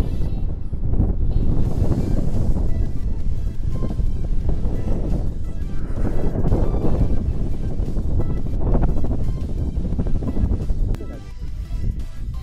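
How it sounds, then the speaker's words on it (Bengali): Strong, stormy wind buffets the microphone on a hillside near Kurseong, a loud low rumble that surges and eases in gusts throughout. "প্রচণ্ড জোরে হাওয়া দিচ্ছে, একদম ঝড়ের মতন হাওয়া।"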